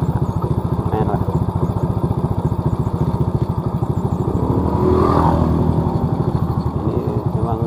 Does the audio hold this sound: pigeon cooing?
no